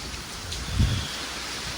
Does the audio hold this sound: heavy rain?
yes